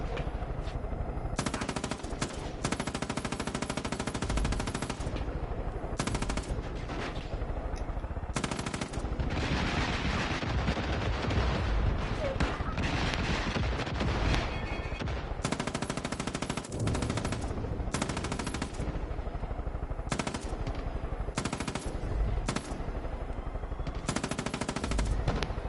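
Sustained machine gun fire in Far Cry 5, loud bursts of automatic gunfire with brief gaps, close and continuous over the whole stretch with no talk.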